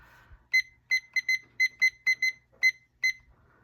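An electronic craft timer emits about ten short, bright beeps in an uneven quick pattern as it is switched on, crisp and close in a quiet room.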